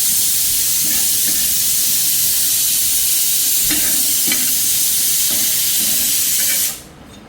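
Spices sauté in a hot pan before being ground into a masala for dal, giving a loud, steady sizzle and hiss with a few soft stirring scrapes, then cutting off abruptly near the end.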